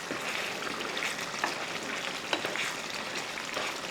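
Soya chunks curry stirred in a pan, giving a steady soft sizzle with faint scraping taps of the spoon, quiet and continuous with no talk.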